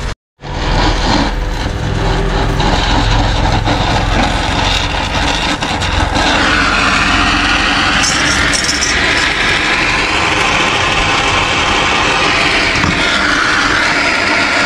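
Metal rod is welded for a car stereo install, a loud continuous crackling hiss that runs steadily for the whole stretch after an abrupt start.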